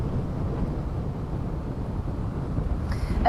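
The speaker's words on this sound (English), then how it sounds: "it's windy here" Steady wind from Hurricane Helene in Florida rumbles and buffets against the microphone, a low, constant roar with no voices.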